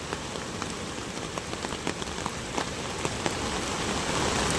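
Heavy rain falls steadily during a river flood, a dense, loud hiss of drops with scattered sharper patters that swells slightly toward the end, and no voices.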